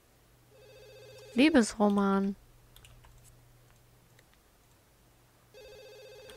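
A telephone in The Sims 2 rings in two short bursts, followed by a soft chime-like tone near the end, with a person speaking briefly over the game's background sounds.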